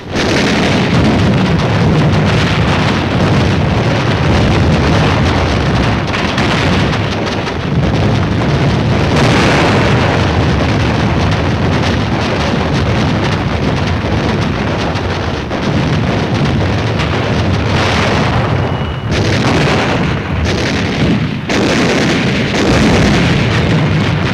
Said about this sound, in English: Suribachi from the air, supporting ships deliver point-blank fire.